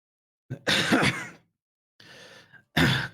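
A voice imitates a dry, rattling cough from the lungs in three rough bursts: a long harsh one, a thinner shorter one, then a final abrupt hack, close and fairly loud with silence between.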